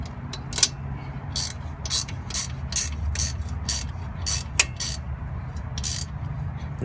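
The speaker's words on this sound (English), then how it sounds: "I'm just finishing tightening the rest of the screws." A ratchet tightens the screws on a wheel hub bearing assembly, giving repeated close clicking bursts in an uneven rhythm over a low steady hum.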